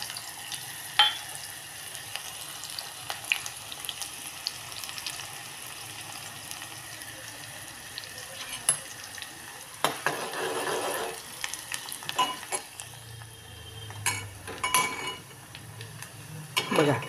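Onion frying in oil in a pan, a soft steady sizzle punctuated by spoon stirs, scrapes and clinks against the pan that grow louder and busier toward the end, close-up and with no voices.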